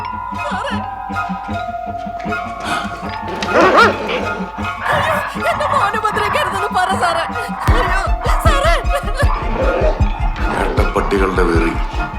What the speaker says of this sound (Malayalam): പട്ടികളുടെ വെറി